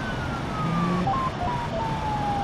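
A police siren wails in a video game car chase, its tone sweeping up and down steadily over a constant engine drone, loud and close throughout.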